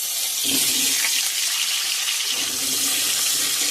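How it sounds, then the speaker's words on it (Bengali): Cut potatoes hit hot mustard oil with a sudden loud, rushing sizzle that surges early, then settles into a steady, close, roaring hiss. "তেল গরম হয়ে গেছে, দিয়ে দেবো কেটে রাখা আলু"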